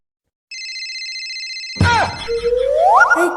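A mobile phone's ringtone plays a short run of clear electronic tones, then gives way to springy, cartoonish sound effects and a rising whistle.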